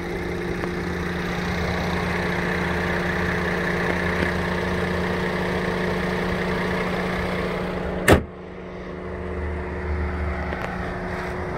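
Mercedes-Benz 350 with an original V6 idling in its engine bay, a steady close hum with a constant low drone, broken by a sharp click about two-thirds through, after which the sound drops slightly.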